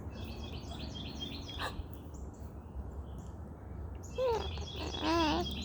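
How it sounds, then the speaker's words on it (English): Birds chirp and sing outdoors in the morning, a few short calls early and then clearer, repeated warbling phrases near the end over a low ambient hum, moderately close. "Those are happy birds."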